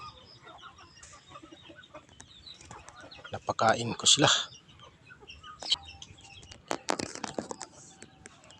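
Chickens being fed cluck and squawk close by, with a loud burst in the middle and scattered clucks after; a person speaks briefly.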